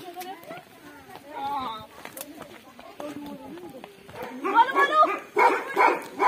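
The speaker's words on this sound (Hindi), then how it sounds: "यहाँ पर नीचे गोलू मोलू बहुत ही ज़्यादा भौंक रहे थे" Two dogs bark repeatedly at a house in the rain after a hailstorm. The barks come in loud, choppy bursts toward the end, with someone talking over the earlier part.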